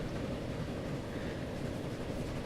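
A train running in the game Transport Fever, a steady broad rumble and rolling rail noise held at constant loudness throughout, with no distinct clacks and no talking.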